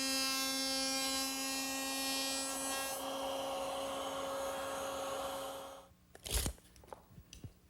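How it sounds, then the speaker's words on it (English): A router table cuts a dado with a 3/4 inch bit, a steady high-pitched electric whine that runs continuously, then spins down and stops, leaving a few faint clicks and knocks of the workpiece. "We'll make those at the router table. I'll be using the same techniques you saw me use earlier, except now I have a 3/4 inch diameter bit"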